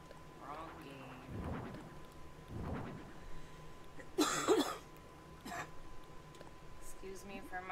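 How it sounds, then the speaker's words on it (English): Several throaty coughs from someone with a lingering cough, close to the mic, in bursts of two to three across the stretch, with a sharper burst near the middle and faint background hum. "My cough."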